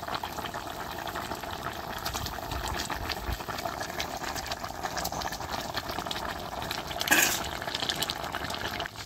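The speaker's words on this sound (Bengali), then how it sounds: "জলটা দেখেন কিরকম ফুটতে শুরু হয়েছে।" Water boils in a cooking pot for a thin fish curry with taro and pointed gourd, giving a steady, close bubbling rush that swells briefly louder near the end.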